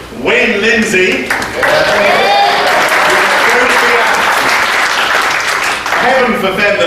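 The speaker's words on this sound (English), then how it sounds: "Heaven forfend that I should kill your applause there" An audience in a church applauds loudly and continuously, dense clapping with a brief dip before swelling again, while someone speaks over it.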